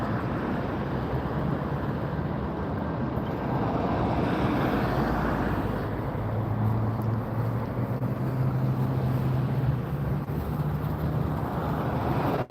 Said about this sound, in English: here goes the British Airways 777. You could hear those engines roar.